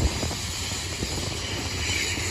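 Amtrak Capitol Corridor passenger train at San Jose station, a steady broadband rumble and hiss with low engine drone, close and continuous throughout without talk.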